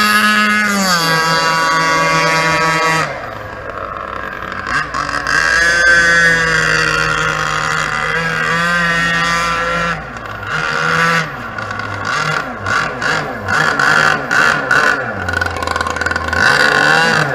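Aeromarine Apache 50 powerboat engines rumbling, a loud, deep, continuous throaty roar with harmonic drone that revs up and down in pitch, close by and dominating, with no talk.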